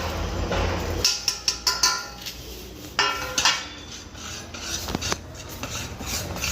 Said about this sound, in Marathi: आता मी जे तिने 1 गरका दिलेला आहे तर हावरीला, तर मी तो आता गुळामध्ये मिक्स करते